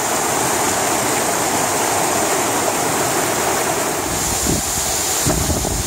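Serrado waterfall in Porteirinha, Minas Gerais, pours into pools below with a steady, loud, unbroken rushing roar, close by and alone.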